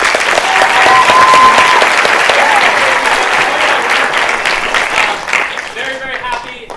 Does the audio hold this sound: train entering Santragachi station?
no